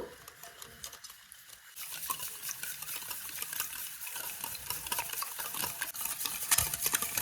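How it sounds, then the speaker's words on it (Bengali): Semolina stirred with warmed liquid milk and powdered milk for a homemade coffee Christmas cake, a steady close scraping and mixing sound that grows louder after a quiet start and continues throughout. "সুজি দিচ্ছি আমি চার চামচের মতন ভালো করে মাখাবো"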